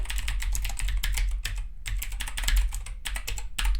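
A file path is typed on a computer keyboard in steady, fast bursts of close, crisp key clicks, broken by two short pauses, with a low hum underneath and no talking.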